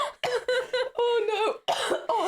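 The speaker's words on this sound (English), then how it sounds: "Oh no, not the cough." A person who has been sick for about three weeks lets out a run of harsh, voiced coughs, four close bursts in quick succession, loud and near with no other sound.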